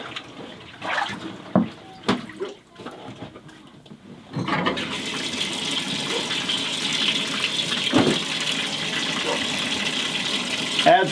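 A few knocks and clatters come first, then water gushes steadily into a tub holding old salted animal skins for rehydrating, a loud continuous rush that fills the rest of the clip.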